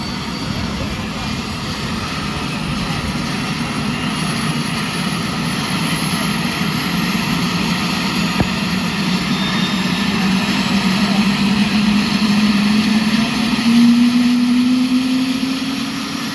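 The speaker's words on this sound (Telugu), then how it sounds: "ఇప్పుడు హెలికాప్టర్ అయితే స్టార్ట్ చేస్తున్నారు చూడండి ఎంత సౌండ్ అయితే వస్తుందో" A loud helicopter engine starting for a festival joyride in Narsapur drones steadily, its whine slowly climbing in pitch as it spools up, close by.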